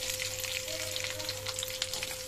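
A ground paste of coconut, green chili, cumin, small onions and garlic fries in oil over low heat, giving a dense, continuous bright sizzle with a faint steady hum beneath, close and even throughout.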